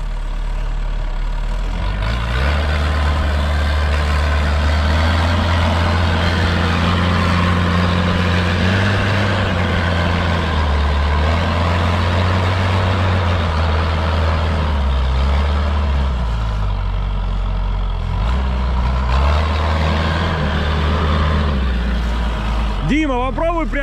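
A Typhoon all-terrain vehicle pushes through snow, its heavy engine droning loud and steady with low rumbling pitch shifts as throttle changes, running continuously close by, with a brief whine at the very end.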